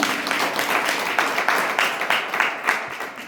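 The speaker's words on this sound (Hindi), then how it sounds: "सब लोग ताली बजा दीजिए।" An audience claps together at a community gathering, with sharp, distinct individual claps rising over a dense, moderately loud patter through the whole clip.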